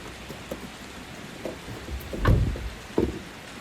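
Morning rain heard from indoors: a soft, steady patter of falling drops under scattered close knocks and thumps, including one heavier bump, with no one speaking.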